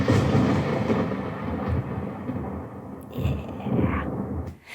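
A thunderstorm rumbles with deep, rolling thunder over a steady wash of rain, swelling loudly a couple of times before fading.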